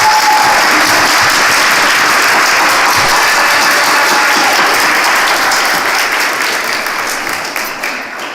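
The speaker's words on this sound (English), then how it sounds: "everyone, applause to Emma and her" Audience applause at a school live-streamed event, a dense steady clapping from a crowd that carries on for several seconds before slowly fading toward the end.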